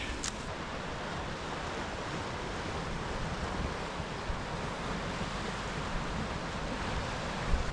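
Ocean waves break and wash against the shore by a lighthouse in Vancouver, BC, a steady broadband roar with wind noise over the microphone and no voices.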